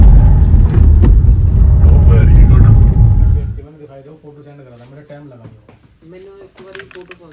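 Car engine rumbling loudly and steadily while a learner driver changes gears, cutting off abruptly partway through, followed by a quieter stretch with a person talking.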